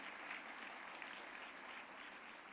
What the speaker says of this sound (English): clap, my friends, please.